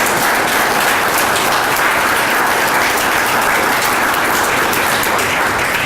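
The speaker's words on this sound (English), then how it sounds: "let's give our families a big round of applause for their sacrifice" Sustained, dense audience applause at a veterans' event, a loud, steady wash of many hands clapping that continues without a break and with no talk over it.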